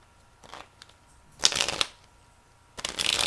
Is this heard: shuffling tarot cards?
yes